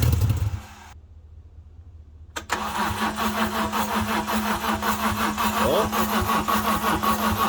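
A BMW E30 with a swapped S54 engine cranks over after a brief silent pause, its starter churning in a steady rapid rhythm for several seconds, close and loud, without catching.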